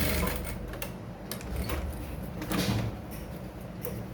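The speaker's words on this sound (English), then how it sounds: "Top stitch all of this." A sewing machine topstitches a single welt pocket, running in a steady continuous whirr with small rhythmic mechanical knocks, close and moderately loud throughout.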